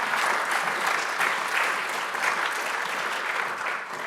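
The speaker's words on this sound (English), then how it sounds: "Big round of applause to our rapporteurs as well" An audience at an EU policy session on health investment applauds its rapporteurs, a steady, dense round of clapping that holds evenly throughout and eases slightly at the end.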